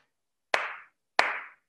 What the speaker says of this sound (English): Santa says, clap your hands.